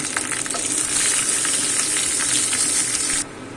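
Whole cumin seeds hit hot oil with bay leaf and two split dried red chillies, giving a loud, close, continuous sizzle and crackle that stops abruptly near the end.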